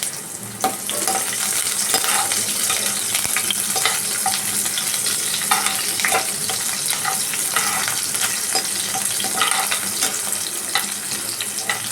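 Cumin sizzling in hot oil as onion is added, giving a steady, close frying hiss with scattered crackles and stirring clicks that runs the whole time with no talk.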